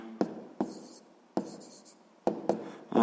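A pen writes down a math answer in short bursts, with about five scratchy strokes separated by pauses, quiet and close, alone.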